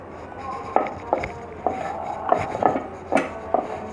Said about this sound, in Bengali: 1 ভাগ বেলে দেখাচ্ছি। আপনারা রুটির মতো করে পাতলা করে রুটি বানাবেন